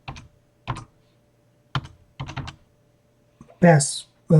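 A few separate keystrokes tap on a computer keyboard while a password is entered for Cisco router or switch console security, sparse and close with pauses between clicks, then a voice briefly speaks near the end.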